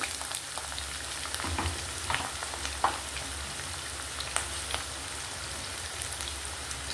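Sliced onions and green chillies fry in hot oil, a steady crackling sizzle with scattered pops and occasional louder spits, close and continuous with no talk.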